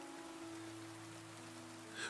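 Steady rain on a surface as a soft, continuous background hiss, even and unbroken, with a faint tonal hum underneath and a slight swell near the end; no one speaks.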